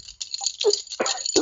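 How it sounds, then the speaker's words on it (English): Metal baseball premiership medallions clinking and rattling against each other in a quick, close jangle lasting a moment. "The premiership medallions for the baseball that we participated in, Damo."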